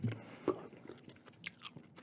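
Soft, close gum chewing gives a few moist clicks and crunchy smacks in an irregular rhythm, quiet and intimate, with no talking.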